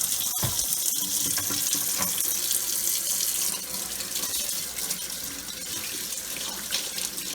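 Canning jars washed with regular soap under a running kitchen tap, a steady, loud rush of water splashing into the sink with a few clunks of glass early on.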